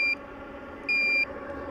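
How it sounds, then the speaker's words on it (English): A Chinese diesel heater gives two electronic beeps, a short one followed by a longer one after a brief pause, clear and close over a low background hum. "This thing beeps a lot."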